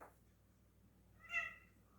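A small female cat gives one faint, short meow in a quiet room, a single soft cry heard alone against low background hum.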